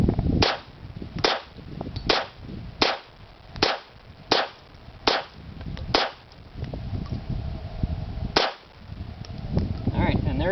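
A quick string of pistol shots from a Beretta 81 fired into a dirt berm, about ten sharp cracks in a fairly regular rhythm with a pause before the last one, heard alone at moderate distance.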